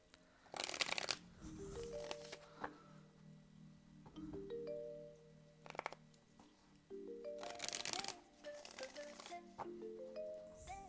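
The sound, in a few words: shuffling tarot cards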